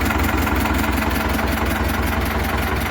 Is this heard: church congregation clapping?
no